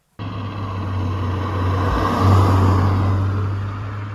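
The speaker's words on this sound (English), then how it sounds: "What you really want to know though about the Golf R is how does it drive" A 2025 VW Golf R Black Edition, an all-wheel-drive hot hatch, drives along with a steady engine drone and road roar that swells briefly mid-way, heard from close by with no talk.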